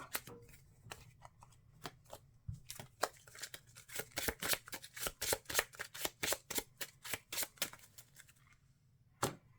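A deck of Marvel Champions cards being shuffled by hand on a tabletop, a rapid run of crisp riffling snaps building into a dense, rhythmic burst near the middle, close and clear with no voices.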